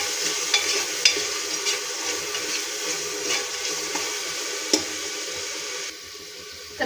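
Salt and turmeric being stirred into hot oil in a pan for dry mutton, a steady soft sizzle with light scraping strokes of a spoon running throughout, with a short hush near the end.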